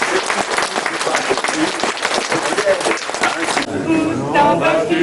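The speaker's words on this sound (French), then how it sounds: "Mais alors on va applaudir bien fort monsieur le maire" Crowd applauding the mayor at a commemoration, a strong burst of clapping from many hands for several seconds, then fading as a voice begins speaking.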